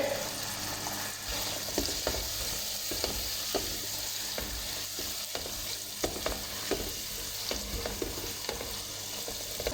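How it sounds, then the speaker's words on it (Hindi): Chopped tomatoes fry in a pan over a medium flame, a dense continuous sizzle broken by frequent scraping stirs and soft clicks of the spoon, close and without speech. "तीन से 4 मिनट मीडियम फ्लेम पे टमाटरों को अच्छी तरह सॉफ्ट करेंगे, गलाएंगे।"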